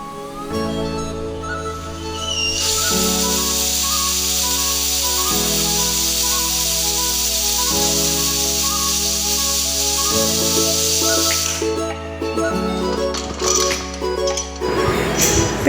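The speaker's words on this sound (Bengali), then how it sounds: "প্রেসার কুকারের ঢাকনাটা লাগিয়ে দিয়ে 4-5টি সিটি দিয়ে নিতে হবে।" A pressure cooker full of cooking mutton hisses steadily with bright, sustained steam venting, over a low, stepped mechanical tone, and ends in clinks and rattles.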